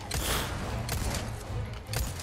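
Gunfire in the Resident Evil 4 Remake video game: a few muffled shots and impacts land in quick succession over a dense, noisy background.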